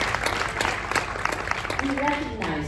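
Audience applause at a Nobel Peace Prize laureate's talk: a steady patter of many hands clapping, moderately loud and even throughout, with a voice rising faintly near the end.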